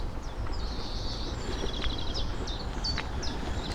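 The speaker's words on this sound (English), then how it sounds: "You hear the birds." Small birds chirp and trill in short repeated phrases along the River Trent, heard over a steady low rumble of wind or riding noise.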